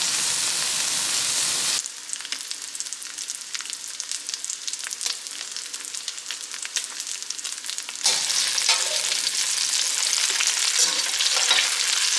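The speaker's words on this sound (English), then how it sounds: "Bacon is frying up to a crisp." Bacon sizzles and crackles in a skillet, a close continuous hiss with scattered pops that swells louder partway through.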